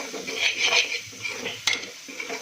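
A spoon stirs bajra khichdi in a pot, giving soft scraping and clinking of metal against the vessel, with one sharper knock midway over a low background, nearby and without speech.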